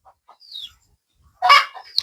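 A few brief fowl calls, short clucks and a sharper squawk, heard close by in otherwise quiet surroundings.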